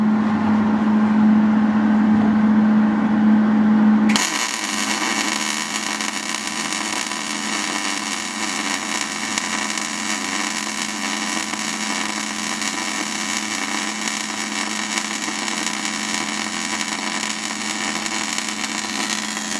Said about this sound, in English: I'm going to first weld one straight bead on the proper polarity, which for MIG welding is DC positive.